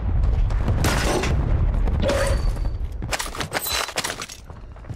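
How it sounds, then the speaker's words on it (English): Precision airstrike explosions in Call of Duty Warzone on the Urzikstan map, with a heavy booming rumble followed by a rapid series of loud blasts and crackling debris. "I have, 2 precision airstrikes."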